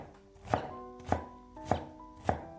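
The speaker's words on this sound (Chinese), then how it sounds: "准备半个洋葱，先切成细丝，再改刀切成小丁" A knife chops half an onion into small dice on a cutting board, four evenly spaced crisp blows ringing out close and clear, with no talk.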